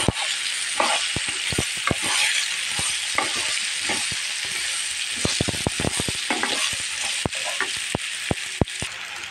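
Hog plum cooking in a pan with mustard paste for a sweet hog plum pickle, giving a dense continuous sizzle with frequent sharp ladle taps and scrapes, close and fairly loud, with no voices.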